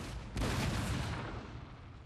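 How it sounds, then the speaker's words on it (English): Cannons fire in a Napoleon Total War battle: a single loud, close blast strikes suddenly and then decays into a long, rumbling tail with no speech. "The cannons turned and shot."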